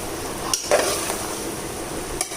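Ginger, garlic and green chili paste fries in a pan with a steady, bright sizzle, broken by a few quick stirring scrapes and knocks.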